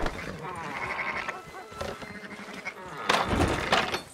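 Sheep bleating in the video game Red Dead Redemption 2, a few wavering bleats from a nearby flock, the loudest near the end, heard under outdoor game ambience and voices.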